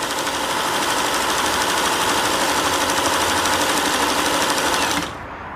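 A Singer 626 Touch and Sew sewing machine winds a bobbin with a steady, fast mechanical whir and rattle, close and loud, that stops abruptly near the end.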